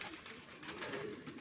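Racing pigeons arriving home at their loft and cooing: a brief, faint coo over a broad, steady background hiss.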